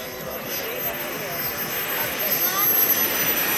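Model training jet aircraft flying at a model air show in Holešov, a steady, fairly loud turbine whine and broadband roar sustained throughout, with a commentator talking over it.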